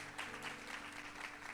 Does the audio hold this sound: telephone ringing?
no